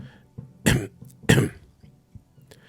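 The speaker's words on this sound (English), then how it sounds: "He's clearing his throat a little bit and then standing up." Two short, sharp throat-clearing coughs close up in the video game Disco Elysium, separated by a brief pause, with soft shuffling in between.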